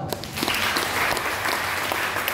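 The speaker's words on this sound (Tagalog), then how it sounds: "So, palakpakan natin na malakas ang Panginoon." A church congregation breaks into loud, sustained applause, dense clapping filling the room throughout with a few voices faintly mixed in.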